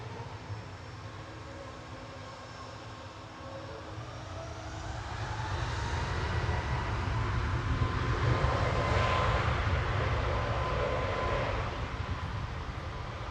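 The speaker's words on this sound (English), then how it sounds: "Got our first heavy departure taxiing over as well." A heavy jet airliner taxis at Manchester Airport on a damp, dewy morning, its engines a steady broadband rumble and whine that swells louder midway and holds, heard alone without voices.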